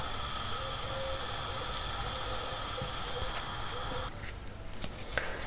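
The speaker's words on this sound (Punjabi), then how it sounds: "ਦੁਆਲੇ ਰਿੱਝੀ ਜਾਂਦਾ ਹੈ ਪਰ ਬਾਹਰ ਨਹੀਂ ਨਿਕਲਦਾ" Milk boiling vigorously in a pan for a milk cake, a loud, steady, rushing hiss that holds for several seconds, then drops away into softer bubbling and a few light clinks.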